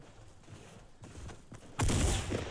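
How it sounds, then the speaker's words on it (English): A SCAR rifle fires in the Fortnite battle royale game, a single loud crack bursting out near the end after a stretch of low rumbling ambience. "That was a terrible shot."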